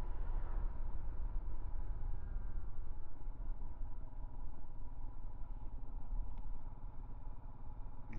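A Royal Enfield Himalayan 411 motorcycle engine drones at steady revs, producing a low, even, fairly quiet rumble that holds without change throughout.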